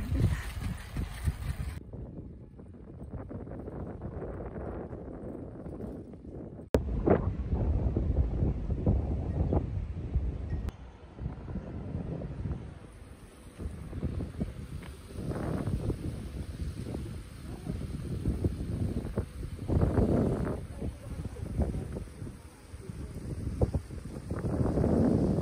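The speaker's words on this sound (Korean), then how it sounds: "바람이 너무 많이 불어서" Strong wind buffets the microphone beside a lake with a cycling path, a continuous low rumble with gusty surges that swell and fade throughout, loud and close, with no other clear sounds.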